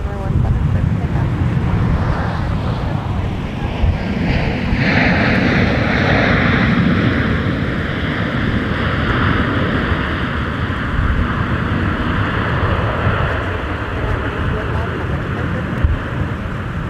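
Loud, close airliner engine roar during takeoff at Minneapolis–St. Paul airport in winter, a sustained broadband rumble with a rising whine that builds and then slowly recedes, with wind buffeting and radio chatter over it.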